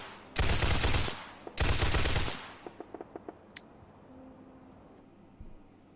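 Two loud sustained bursts of automatic gun fire in a video game under development, followed by a rapid series of sharp clicks and ticks, then a quiet hum.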